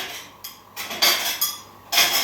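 Freshly washed dishes are put away in a kitchen, a few short clinks and clatters of crockery and utensils in separate bursts, close and moderately loud with no talk.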